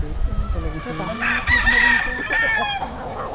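An Arab breed rooster crows loudly nearby, a long drawn-out call, with clucking from other chickens and a voice speaking briefly in the background.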